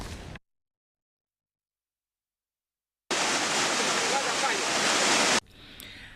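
Floodwater of the swollen River Katonga rushing, a loud, dense roar of churning water that bursts in after a silent gap, holds steady for a couple of seconds, then drops away to a quieter background.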